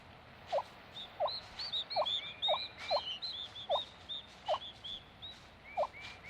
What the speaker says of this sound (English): A female turkey urges her chicks from the nest with a special call.